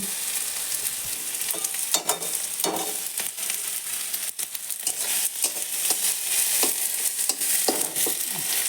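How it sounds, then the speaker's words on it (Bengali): Steady oily sizzling of potatoes frying in a pan, with scraping and stirring bursts scattered throughout; close and continuous, no voices. "আলু ভাজা হয়ে গেছে এবার"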